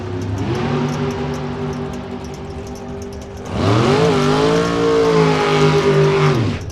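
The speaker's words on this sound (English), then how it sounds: "63 Corvette with a big block bow tie takes on Shannon Brinkley, 2002 Corvette from Highlands, Texas" A 1963 Corvette with a big-block Chevrolet engine drag races a 2002 Corvette, two loud engines roaring at full throttle, the pitch rising as they launch and then holding steady as they pull away.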